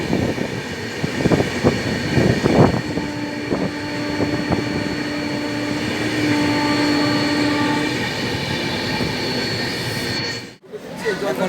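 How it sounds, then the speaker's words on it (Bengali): Samleswari Express passenger train pulling out of Rourkela station, a steady rolling rumble with a sustained horn-like tone in the middle, voices faintly mixed in, and a brief dropout near the end. "ট্রেন ছাড়লো রাউরকেল্লা থেকে"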